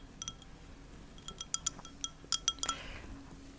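Glass clinking as it is filled with water: a series of bright, sharp clinks in uneven clusters, followed by a brief pouring trickle, fairly close and with no speech.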